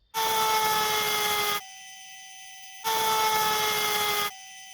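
An 1800 kV RC motor driving a pump under load, running in two bursts with a harsh, noisy whine, each followed by a quieter steady tone, close by with no talking.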